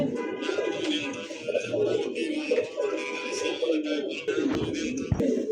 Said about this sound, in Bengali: ইরানি তুরিঙ্গা কবুতর দেখেন